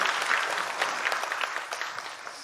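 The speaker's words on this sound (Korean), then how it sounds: "우리 박수해 주시겠습니다." A church congregation at a Sunday worship service bursts into steady, dense applause, many hands clapping together at a fairly even level throughout, with no talking over it.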